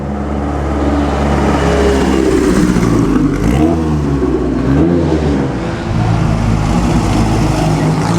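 A classic Maserati racing car at the Mille Miglia roars close by with a loud, rising and falling engine note, revving up through its gears as it passes.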